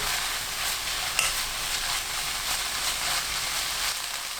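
Rice with onion, chili and canned saury kimchi sizzles steadily in a hot pan over medium heat while it is stirred and tossed, a continuous crackling fry with occasional soft scrapes.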